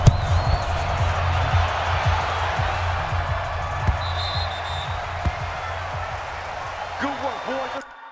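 Sold-out stadium crowd roaring in Madden NFL 20 before a Bills versus Oakland Raiders football game, a broad steady cheer with scattered thuds and slams, fading toward the end.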